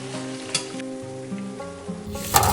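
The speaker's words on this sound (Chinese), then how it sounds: "等一面炸到我们满意的金黄色，我们再翻另一面炸。" Homemade donuts deep-fry in a pot of hot oil, giving a continuous close hiss and bubbling that swells louder in the final half-second.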